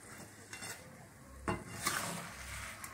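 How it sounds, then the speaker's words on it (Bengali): Plum pickle cooking with jaggery in a pan, stirred with a utensil in soft scraping strokes that give a few brief louder scrapes over a faint, steady sizzle. "নাড়তে হবে যাতে নিচে না ধরে যায়, তাহলে পোড়া গন্ধ হয়ে যাবে।"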